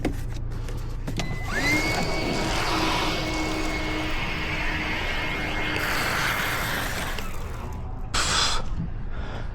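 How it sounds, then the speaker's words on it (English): A vacuum cleaner runs steadily while cleaning the interior of a 2011 Toyota Tacoma pickup, its motor whine holding close and loud for several seconds with a brief surge near the end, and no talk over it. "Vacuum."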